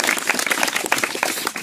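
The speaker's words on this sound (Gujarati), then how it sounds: "તાળીઓ પાડો." Brisk, dense clapping from an audience at a student values camp, close and lively with quick overlapping hand claps throughout.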